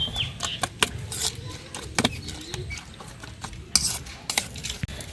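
A spoon stirring chopped tomato, onion, coriander and green chilli in a bowl, with irregular clinks and scrapes of metal against the dish, fairly close, with no voices.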